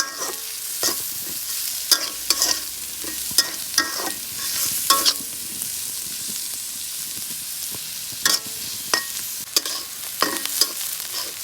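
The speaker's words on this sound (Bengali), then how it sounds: "এখন একটু পেঁয়াজ দিয়ে দিব" Onions and green chilies frying in a pan, a steady hiss of sizzling oil broken by repeated sharp scrapes and clacks of a spoon stirring, heard close with no one talking.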